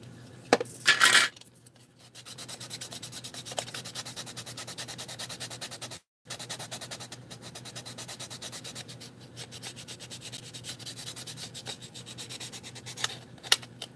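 Sandpaper of 220 grit rubbing a model car body, a steady close rasping scrub that runs continuously with one short pause, preceded by a brief clatter.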